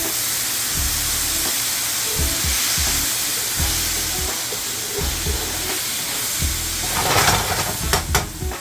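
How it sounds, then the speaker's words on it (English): A hot pan is deglazed with broth while cooking ramen, giving a loud, steady sizzle and steamy hiss with rhythmic scraping and stirring throughout, up close. "I'm gonna deglaze this pan a little bit with just some of this broth"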